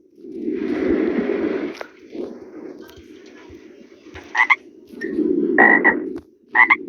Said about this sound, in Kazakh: Ана жерде құрбақа кетіп жатыр.